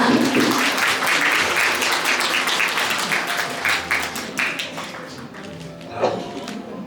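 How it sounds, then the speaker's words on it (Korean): Wedding guests applaud during the ring exchange in a hall, with full, lively clapping that slowly thins out, a few louder taps and thumps near the end, and brief voices mixed in. "네, 박수 부탁드립니다."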